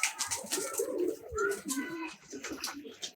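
A pigeon coos repeatedly at close range, with soft rapid breathy sounds from the panting bird and rustling around it; a voice talks faintly in the background.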